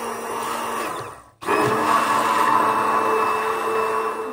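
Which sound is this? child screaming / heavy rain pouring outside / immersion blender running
immersion blender running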